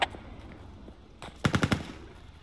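In the Squad video game, a short burst of about four rapid machine gun shots rings out at mid-distance after a faint sharp crack at the start, with quiet background ambience.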